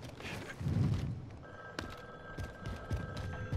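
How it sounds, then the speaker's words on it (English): Phone ringing in Call of Duty: Modern Warfare, a steady electronic ring tone that sets in partway through and holds over faint game noise and scattered clicks, moderately loud and close. "Phone's ringing."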